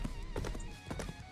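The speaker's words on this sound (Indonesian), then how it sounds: "Selang kemudian terdengar suara kuda." Hooves clop in a quick, uneven rhythm, a few close strikes standing out over a dense background of music.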